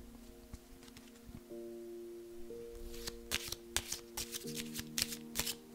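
Tarot cards shuffled and drawn for a reading, with soft riffling and a run of sharp card snaps and slaps toward the end over a faint steady tonal hum; no talking.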